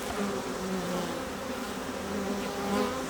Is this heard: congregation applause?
no